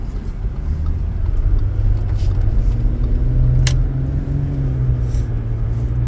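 A vehicle carrying about a tonne of sand drives through the Silaunieki sand quarry. Its engine gives a steady, close, low rumble throughout, with a faint rattle now and then.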